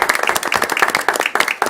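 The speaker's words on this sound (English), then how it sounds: "Round of applause for our staff." A room full of people claps for school district staff, a short, dense burst of overlapping hand claps at close range with no talking.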